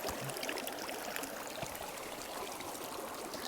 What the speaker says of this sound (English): You'd add a little bit more water to it.